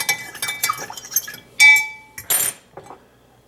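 A spoon clinks against a pot of venison stew during stirring: a run of small metallic taps, then one louder ringing clink and a few more scattered knocks, close up with no talking.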